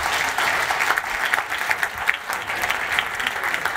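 An audience at an innovation challenge final event claps steadily for a few seconds, a close, even patter of many hands.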